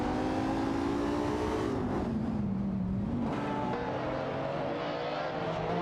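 Lotus Emira race car engine in a racing video game, a steady engine drone that dips in pitch mid-clip and climbs again, continuous and fairly loud with no voices.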